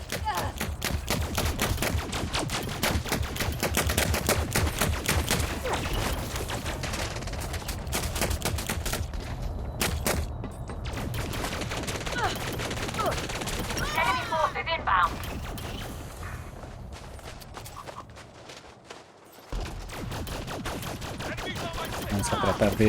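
Rapid gunfire on foot in Elite Dangerous Odyssey ground combat, dense bursts of automatic shots with mechanical clatter running almost continuously, briefly thinning before resuming, with someone talking in Spanish over it.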